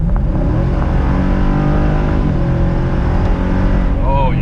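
A Jeep SRT running on E85 fuel accelerates hard, its engine droning loud and continuous as the revs climb and shift across the pass, heard from inside the vehicle.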